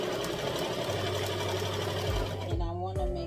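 A sewing machine runs steadily, stitching ribbon onto a tutu skirt, a continuous close mechanical whir that slows and stops near the end.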